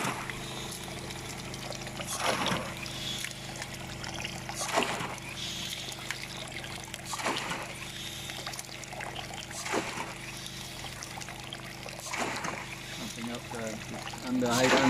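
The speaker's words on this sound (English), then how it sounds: "That's the water running down around us from the overflow of the standpipe." Water streams down from the overflow of a standpipe beside a running Bunyip PA13 pump with a stainless steel chamber, a steady close splashing rush with periodic surges.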